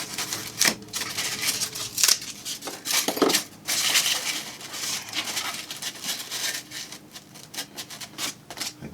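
Close, irregular cutting and rubbing sounds of material being trimmed to shape hills for an N scale model railroad layout, with scattered sharp snips and scrapes, no talking.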